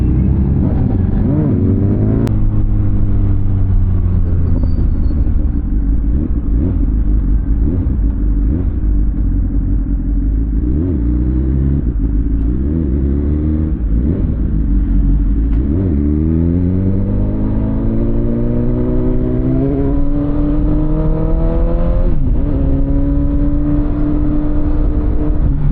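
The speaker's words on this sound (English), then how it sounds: "Wing is one of those motorcycles that is built purely for long distance comfort." Honda Gold Wing touring motorcycle cruising on an open highway, with a steady close engine drone and wind rumble and occasional rises in engine pitch, continuous and loud with no talking.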